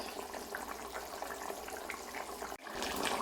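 Rohu fish curry broth with taro bubbling in a pot on a gas stove: a steady, soft simmering hiss and gurgle, faint and continuous, alone without talk.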